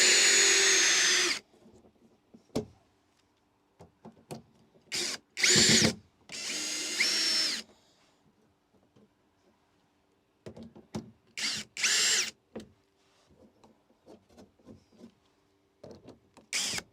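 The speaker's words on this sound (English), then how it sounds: "Got a lot of screws going in here." Power drill driving screws during a camper van build, heard as several separate bursts of whirring that start and stop with quiet gaps between them, close and fairly loud.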